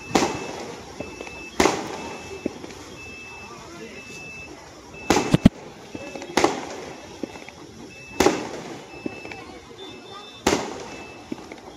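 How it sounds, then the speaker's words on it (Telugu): Firecrackers burst repeatedly near a hotel by a bus stop, sharp loud bangs every couple of seconds with a quick double crack, over a low traffic rumble and a faint repeating beep. "ఇక్కడ హోటల్ దగ్గర అయితే టపాసులు నాన్ స్టాప్గా పేలుతూనే ఉన్నాయి"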